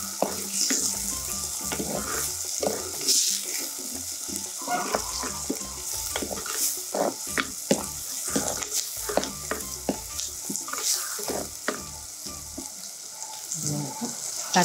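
Onion with a pinch of salt sizzles in hot oil in a pan, a steady loud frying hiss with scattered crackles and stirring scrapes throughout.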